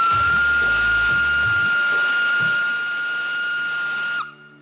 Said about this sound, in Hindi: इसी के साथ इंजन ने अपनी सीटी देकर चलने की घोषणा की